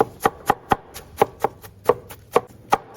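A kitchen knife chops crushed water chestnuts into mince on a cutting board, about a dozen crisp, evenly spaced thuds in a steady rhythm, loud and close, with no voices.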